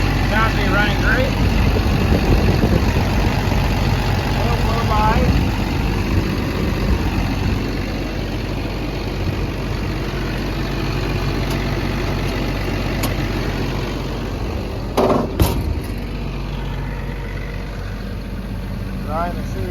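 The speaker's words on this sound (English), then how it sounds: "That Cummins diesel motor. Sounds to be running great." A Cummins diesel engine on an XCMG XE 210 excavator idles with a steady low rumble, joined near the end by a few brief clanks, while someone talks over it.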